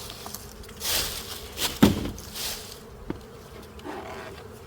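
Honey bees buzz continuously around full hives in a spring beeyard, a dense, swelling drone with a few soft thumps and knocks nearby.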